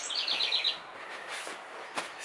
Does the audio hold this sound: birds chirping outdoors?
yes